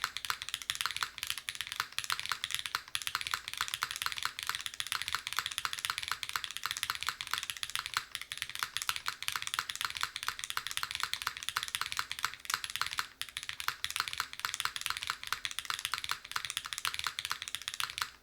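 Fast, continuous typing on a Dune65 gasket-mount mechanical keyboard with an aluminum plate and no foam, giving crisp close-up clacks in a steady rhythm with a brief pause before the typing resumes.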